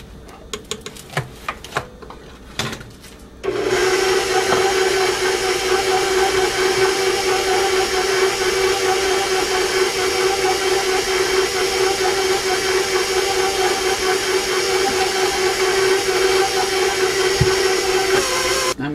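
An electric mixer whirs into cookie dough containing baking powder, baking soda and vanilla, starting abruptly after a few seconds of clicks and clatter, then running as a steady, loud, high motor whine to the end.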